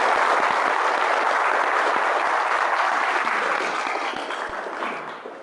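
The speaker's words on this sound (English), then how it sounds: "Give him a round of applause." A crowd at a street hypnosis seminar breaks into loud, sustained applause that fades slightly toward the end, with no voices over it.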